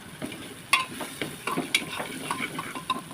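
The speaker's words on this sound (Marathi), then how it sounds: "घालायचं आहे व्यवस्थित तेलामध्ये परतून घ्यायचं आहे गॅस स्लो ठेवायचं आहे" Bottle gourd frying in oil with red chilli masala over low heat, stirred with a utensil that gives occasional light scrapes and clinks over a soft, steady sizzle, close by with no talking.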